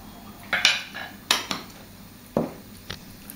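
Two teaspoons of cumin tipped into a bowl while making a South American seasoning for meats, heard as a few sharp clinks of a metal spoon against the bowl, close and spaced apart, with no talking.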